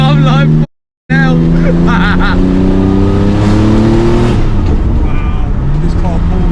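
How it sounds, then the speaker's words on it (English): A Porsche 993 GT2 Evo accelerates hard, heard from inside the cabin: a loud engine roar climbs steadily in pitch through a gear, with a brief cut near the start and people talking over it. "Wow, this car pulls, man."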